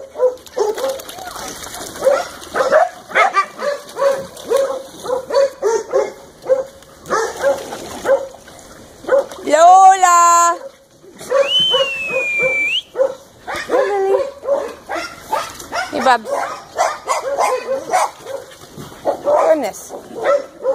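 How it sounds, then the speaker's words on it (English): Hounds bark and whimper in a kennel room while a person talks to them throughout, with yips scattered among the voices and a higher whining cry standing out midway. "These hounds are barking like crazy today"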